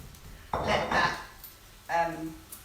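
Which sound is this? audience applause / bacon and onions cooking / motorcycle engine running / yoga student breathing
bacon and onions cooking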